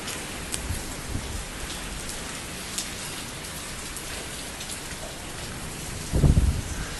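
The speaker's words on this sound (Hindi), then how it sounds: "विंड के साथ बारिश हो रही है।" Heavy rain driven by wind falls on outdoor garden plants as a dense, steady hiss, with a louder gust and splash swelling briefly near the end.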